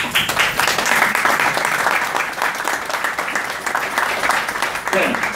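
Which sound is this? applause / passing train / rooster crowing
applause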